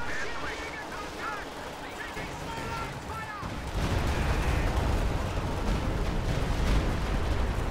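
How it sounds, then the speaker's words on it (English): A Stuka and Panzerwerfer artillery barrage in a WWII strategy game, a dense, continuous roar of explosions and gunfire that grows louder partway through and keeps rumbling to the end. "That Stuka barrage, a little bit off target. Panzerwerfer barraging the middle, also off target."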